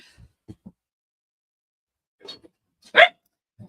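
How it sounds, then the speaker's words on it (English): A dog barks indoors in an office room, a few short muffled woofs and then one louder, sharper bark, separated by near silence. "Now, my dog is starting barking."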